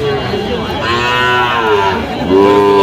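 Several six-month-old bull calves on a Cumilla farm moo loudly and close by, long overlapping calls running continuously with no gaps.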